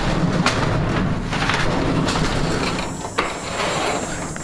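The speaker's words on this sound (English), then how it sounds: "Crack the door open." A trailer door is cracked open with a rough, sustained rumbling scrape lasting several seconds, steady and fairly loud, with a small knock near the end.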